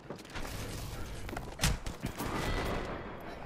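Gunfire in Apex Legends, a steady loud stream of rapid shots with a sharper burst near the middle, continuing as dense fighting noise with no talking.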